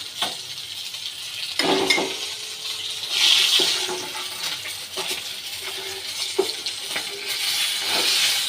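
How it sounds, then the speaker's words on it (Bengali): Fish heads fry in oil for muri ghonto, a moderate, steady sizzle with watery bubbling and occasional sharp clinks and spatters, close and without talk. "বন্ধুরা মাছের মাথাগুলো ভালো করে ভাজা হয়ে গেছে"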